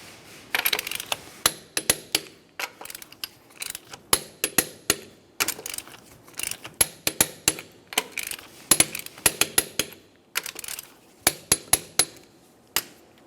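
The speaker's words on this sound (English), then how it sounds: "let's torque these to 76 in a crisscross manner." A torque wrench tightens wheel lug nuts in a crisscross pattern on a 2009-2010 Pontiac Vibe, a long run of sharp metallic clicks and taps in irregular bursts, close and fairly quiet.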